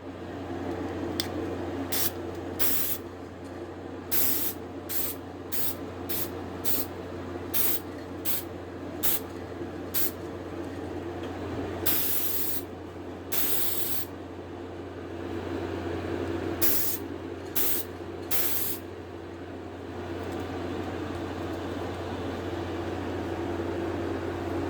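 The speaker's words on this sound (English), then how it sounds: "I'm putting on the lacquer now. I'm going to try to hold the phone with one hand and spray with the other." Lacquer sprayed from a handheld can onto a gar fish taxidermy mount: a string of short, sharp hissing bursts at an uneven rhythm over a steady low background hum, with no talking.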